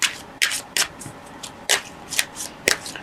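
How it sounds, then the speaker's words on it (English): A tarot deck is shuffled by hand, giving crisp, close riffling bursts at an uneven rhythm with brief pauses between them, and there is no talking. "Now I'd like to draw some clarification cards"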